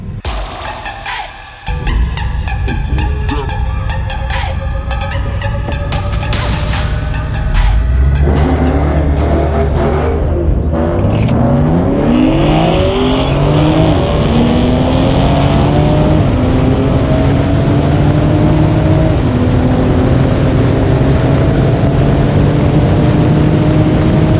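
A stock 2020 Toyota Supra GT accelerates hard on a quarter-mile drag strip: a loud engine idles briefly, then roars up through repeated rising gear pulls, with clear upshifts and a sustained near, powerful exhaust drone.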